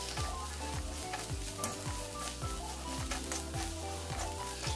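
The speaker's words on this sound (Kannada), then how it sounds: "ಮಿಕ್ಸ್ ಮಾಡಿ ಒಂದರಿಂದ ಎರಡು ನಿಮಿಷ ಇದನ್ನು ಫ್ರೈ ಮಾಡಬೇಕು" Kirksali leafy greens fry in a pan with chilli powder and salt, giving a steady, loud sizzle throughout with repeated scraping strokes of stirring, and no voices.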